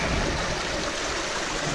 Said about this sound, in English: Here's a waterfall.